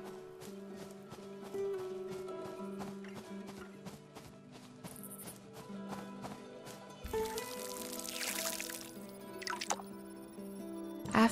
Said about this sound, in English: After that, I watered the tomatoes as well.